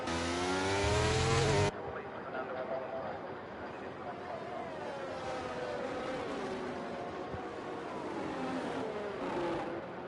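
Formula 1 cars in a racing video game at the Azerbaijan circuit scream at full throttle, a loud sustained engine whine with rising and falling pitch as gears shift, running steadily under a commentator's continuous talk.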